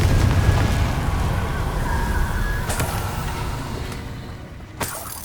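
A Confringo spell explodes in the video game Hogwarts Legacy: a loud, rumbling blast that fades over a few seconds, followed by a couple of sharp cracks.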